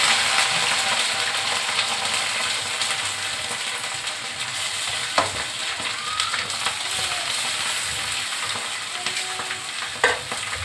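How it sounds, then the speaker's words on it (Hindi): Garlic added to a hot frying pan sets off a continuous crackling sizzle that stays fairly close, broken by a couple of sharp clicks from stirring. "ये मैं डाल रही हूँ इसमें लहसुन।"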